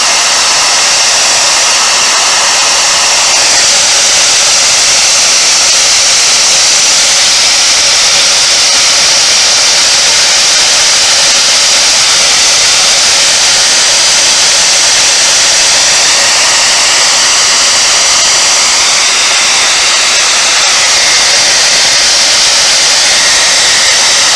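A hair dryer blows continuously and loudly at close range onto a latex mask, a steady broadband whooshing hiss with no pauses or talking.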